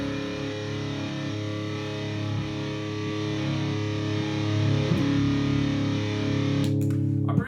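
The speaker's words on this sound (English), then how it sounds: "what I have for distortion is a Friedman BEOD boost pedal" A sustained, buzzing distorted Gibson Les Paul electric guitar chord through a Friedman BE-OD boost pedal rings out and drones steadily, thick with saturated overtones, before a brief scratchy noise at the end.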